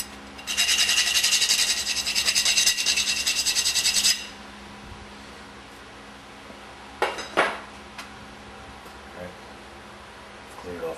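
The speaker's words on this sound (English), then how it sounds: "Take off any burrs." Rapid rasping strokes of a file taking burrs off an aluminum nut during a Meyer E 47 rebuild, a steady scraping run of about four seconds followed by a couple of short scrapes, close and clear.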